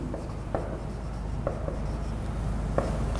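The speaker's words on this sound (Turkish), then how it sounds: "ben hep büyük harfle yazıyorum" Handwriting in capital letters on a school lesson board or page, faint scratchy strokes with a few sharper taps over a steady low hum.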